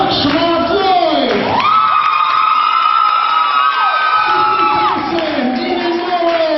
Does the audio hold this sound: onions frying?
no